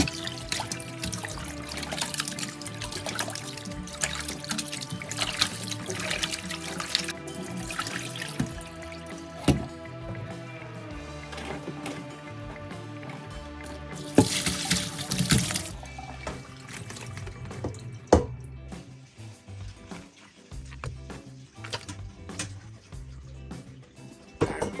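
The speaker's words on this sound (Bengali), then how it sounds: "মাংসগুলোকে ভালোভাবে ধুয়ে পানি ঝরিয়ে নেব।" Raw mutton pieces being washed for kacchi biryani, with water running and trickling as the meat is rinsed and drained; steady splashing and dripping close by, with some sharper clatters midway and no talk.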